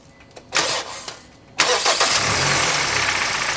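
A car engine in a repair shop cranks with a few short bursts, then catches and settles into a steady, loud idle that runs on to the end.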